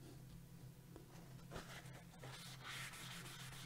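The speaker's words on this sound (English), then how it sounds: "Give that a good rub." Soft-finish cardstock pressed onto a planner stencil and rubbed by hand, a faint close scratchy swishing that comes in short strokes and builds toward the end, with no talking.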